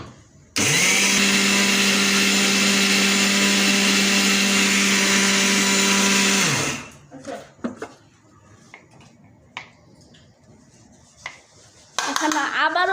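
A kitchen blender whirs loudly and steadily for about six seconds while blending batter for pitha, then stops, followed by faint clinks of utensils and brief talk before the motor starts again.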